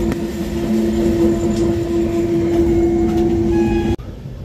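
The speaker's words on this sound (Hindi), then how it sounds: "बस हल्का सा रुकती है ट्रेन फिर चल पड़ती है इन स्टेशन से।" Passenger train running near Ramnagar station on a foggy morning, a loud steady rumble with a sustained tonal hum heard from inside the carriage, cutting off abruptly near the end.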